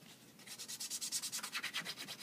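Coarse sandpaper rubs a model hopper part in quick, regular back-and-forth strokes, about a dozen rasping swipes in a steady rhythm, close and fairly quiet.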